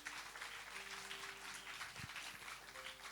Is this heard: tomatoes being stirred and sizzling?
no